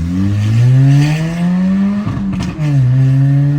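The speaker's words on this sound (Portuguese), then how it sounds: "Temos um ronquinho aí com o difusor aberto, bem alto, né?" A naturally aspirated Volkswagen Polo MSI roars loudly through an open exhaust diffuser, holding a steady, throaty drone that dips briefly and then climbs again.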